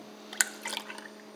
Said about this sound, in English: I was pouring milk, guys.